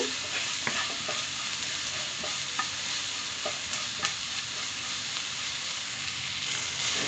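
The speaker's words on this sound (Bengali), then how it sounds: "এখন এগুলোকে আমি ভালো করে কড়কড়া করে একটু ভেজে নিচ্ছি" Onions with turmeric fry crisp in a pan of oil, a steady close sizzle with small pops and spatula scrapes as they are stirred, and no talking over it.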